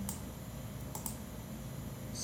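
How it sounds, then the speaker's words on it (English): Faint, sparse computer clicks, two close together near the middle and one at each end, over a steady low room hum with no talking. "So I will be clicking save and continue to make our changes permanent."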